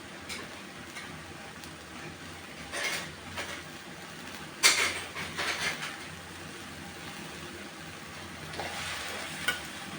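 Bean sprouts and tofu stir-fried in a pan with spring onions give a soft, faint sizzle, with occasional scrapes and clinks of the spatula and a louder stir near the middle.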